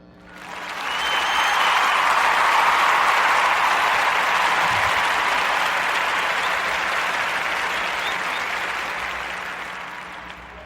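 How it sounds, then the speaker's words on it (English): A studio audience breaks into a warm, sustained round of applause that swells quickly, holds steady for several seconds, then slowly tapers off, with no voices over it. "Let's give a warm narrative podcast round of applause for Aya"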